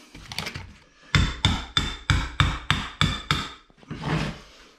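An old chisel is driven with a run of about eight sharp, evenly spaced knocks to remove a motor housing on a tub deck build, followed by a scraping rasp.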